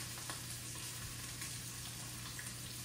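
A skillet heating for fish tacos hisses with a constant, even frying sizzle at moderate level, a low hum running underneath and no voices.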